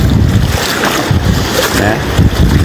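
Strong wind gusting over the Lagoa dos Patos at Arambaré, a loud, steady roar of broadband rush buffeting the microphone, with surging gusts and no pauses throughout.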